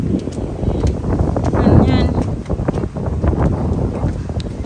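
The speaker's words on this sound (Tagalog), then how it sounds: "Ang lakas pa rin ng hangin eh." Gusty wind buffets the microphone with a rough low roar, rising and falling, while a person speaks briefly in the middle.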